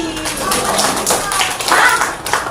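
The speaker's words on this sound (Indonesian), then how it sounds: "Tepuk tangan ke Bari." A small group claps hands together for a storytelling session, a dense burst of overlapping taps lasting a couple of seconds with faint voices mixed in.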